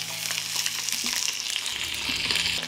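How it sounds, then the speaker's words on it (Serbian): Chicken pieces frying in hot oil in a pan give a steady, close sizzle and crackle that holds evenly throughout, with no talking. "Na zagrejano ulje spuštam piletinu i pržit ću je po 3 minuta sa obe strane."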